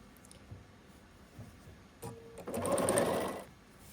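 A sewing machine stitching quilt edges runs in one short whirring burst of about a second and a half, close and fairly quiet, after a few faint handling taps.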